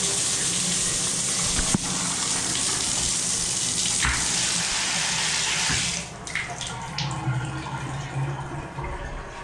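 Water from a hotel bathroom shower runs in a steady, loud broadband rush that continues for the whole stretch, with a slight drop and some splashy changes in the later seconds.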